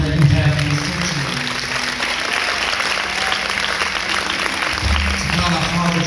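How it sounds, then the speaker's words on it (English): A church congregation gives a sustained round of applause at a celebration-of-life service, a steady wash of many hands clapping together with organ or keyboard tones sounding underneath. "Can we give our God the very best clap offering that we have in this sanctuary?"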